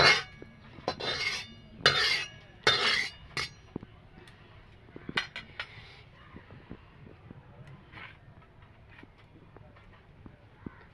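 A wok (kadai) being tilted and scraped as a little white oil is spread around its sides for frying potato paratha: loud metallic scrapes and clinks in the first few seconds, then sparse, fainter taps and knocks.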